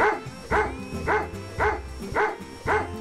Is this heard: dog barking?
yes